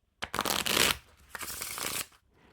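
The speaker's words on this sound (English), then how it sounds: "So we just gotta shuffle it a couple times for them to be thoroughly mixed." Two quick riffle shuffles of a Peau Doux Deer back deck of playing cards, each a rapid fluttering burst, close up and with no one talking.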